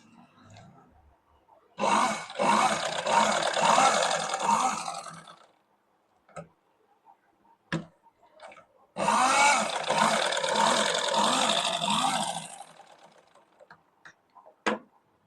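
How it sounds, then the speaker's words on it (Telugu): A sewing machine runs a seam joining the shoulder of a blouse, with two loud sustained bursts of rapid stitching a few seconds each, separated and followed by scattered clicks and handling sounds. "ఇప్పుడు చూడండి షోల్డర్ జాయిన్ చేస్తున్నా"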